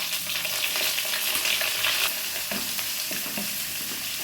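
Medium sliced onion strips sizzling and frying in a hot pan for peri peri chicken, a steady close hiss with occasional stirring scrapes and soft clinks throughout.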